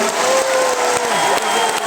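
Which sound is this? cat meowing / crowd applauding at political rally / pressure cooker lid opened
crowd applauding at political rally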